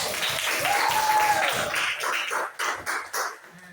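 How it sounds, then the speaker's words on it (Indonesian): Classroom applause for a grade 4 Christian religious education lesson: light, scattered clapping from a small group, loose and uneven, fading into a few separate claps, with a voice briefly audible over it. "Ya, tepuk tangan."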